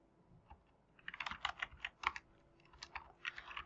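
Quick, close keystrokes on a computer keyboard type a short command into a Cisco router configuration session, a brief cluster of crisp clicks with no voice.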